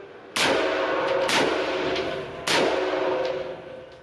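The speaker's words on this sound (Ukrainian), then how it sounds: "Постріл." Two loud gunshots fired a second apart, then a third after a pause, from a test firing of a civilian firearm at a forensic center, each sharp crack ringing out with reverberation in an enclosed space.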